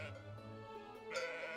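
Sheep bleating on a sheep farm in a strategy video game, one long wavering bleat rising louder toward the end over faint game background sound, with no talking.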